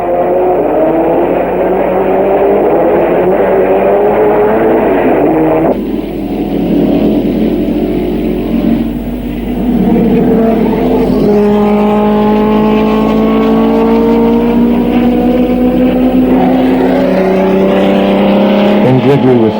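Engines of 1959 Formula One race cars, Ferraris among them, at the French Grand Prix, a continuous loud drone whose pitch climbs and falls as the cars pass, with a narrator talking over it throughout.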